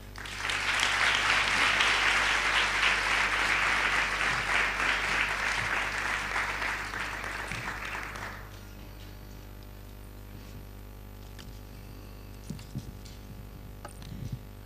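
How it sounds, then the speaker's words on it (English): Audience applause at the 2012 Malaysian Student Leaders Summit, a loud, steady roar of clapping for about eight seconds that cuts off sharply, leaving a low electrical hum and a few faint knocks. "let's have a round of applause"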